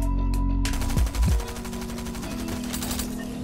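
Rifle and submachine gun fire in the video game Fortnite: rapid automatic bursts, loud and close, running continuously through the clip without speech.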